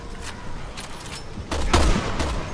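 Sniper rifle fire in Resident Evil 6 cracks out in several sharp reports, the loudest and densest burst landing in the second half over steady background game noise.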